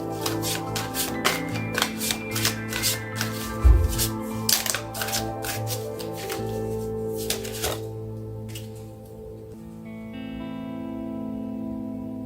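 Oracle cards are shuffled in quick rippling bursts of crisp flicks for several seconds, close to the mic, under steady electronic background music that carries on alone afterward.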